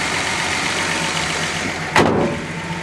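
A Nissan Z car engine idles steadily near by, with a valve train in need of a lash adjustment, and a short sharp whoosh or clunk near the end before the idle settles slightly quieter.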